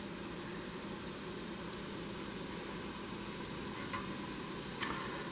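Green plantain slices for Colombian patacones fry in a small amount of oil, a soft steady sizzle and hiss throughout with a couple of faint clicks near the end.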